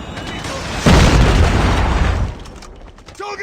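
A Predator missile strikes in a first-person shooter video game, a single loud booming blast that rolls out and decays over a second or so, with game voices chattering faintly around it.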